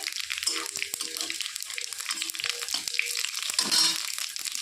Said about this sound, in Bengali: শুকনো লঙ্কাটা ভাজা ভাজা হয়ে গেছে দিয়ে দিচ্ছি গোটা জিরে